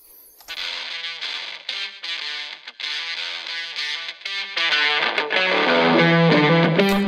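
Wet-only output of the Logic Pro X Exciter plugin on a melodic instrumental passage, a bright, fizzy, distorted sheen over the notes, growing denser and louder toward the end, with no talking.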